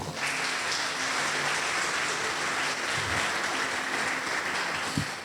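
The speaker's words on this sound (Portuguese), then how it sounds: "Você pode aplaudir o Senhor?" A church congregation applauds the Lord during a sermon: a continuous, rain-like patter of many hands clapping, moderately loud and steady, with a couple of low thumps near the middle and end.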